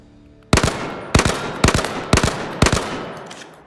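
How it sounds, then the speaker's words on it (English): Five loud, evenly spaced rifle shots ring out in a VR shooting game, each a sharp crack with a short decaying tail, about half a second apart, with no talk. "Let's try the rifle for now. So, lock it, take the gun, aim."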